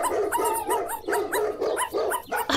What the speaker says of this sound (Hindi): भौंक भौंक कर मैं थक गया।